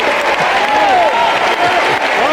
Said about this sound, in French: je pense même qu'elle mérite quelques applaudissements